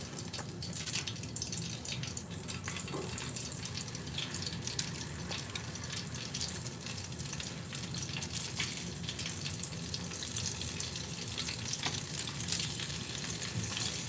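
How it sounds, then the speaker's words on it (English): Steady, dense sizzling of cinnamon roll dough frying in hot oil, with crackles and pops running throughout and no voices. "Ooh, I hear it frying."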